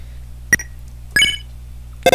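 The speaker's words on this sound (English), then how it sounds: "The phone is ringing, but you can't get it." A phone ringing in the Deltarune video game, heard as three short electronic tone bursts spaced about half a second apart over a low steady hum, fairly loud and with no one talking.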